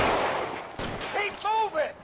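A loud burst of gunfire in a cops-and-robbers game, dense cracks packed into the opening second, followed by shouting voices.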